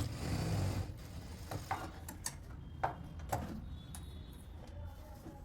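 A sewing machine stitching a lined suit in a tailoring boutique, faint mechanical ticking and clicking in irregular short bursts over a low background hum.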